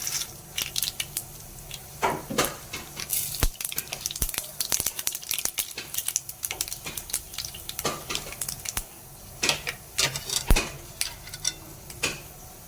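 Mor vathal, dried buttermilk chillies, frying in oil for a dal, irregular crackles and pops with stirring scrapes, sharp bursts rising and falling over a quiet sizzle, no one talking.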